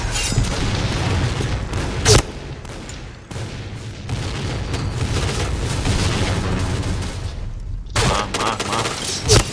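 G36 assault rifle fire in the shooter game Point Blank, with rapid automatic bursts and sharp booming shots cutting through a dense, noisy battle soundscape, loud and close, with short pauses between volleys.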